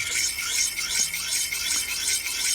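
A curved tool bevel is rubbed in circles on a flat wet sharpening stone, making a steady, close, gritty rasp that rises and falls in a regular circular rhythm.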